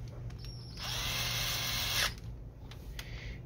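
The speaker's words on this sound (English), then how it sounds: "you're gonna put all the screws back in place" A power screwdriver drives screws back into a Canon Pixma MG6820 printer during a carriage unit replacement: one steady, close, high-pitched whir of about a second, then a short clicking pause and brief faint buzzes.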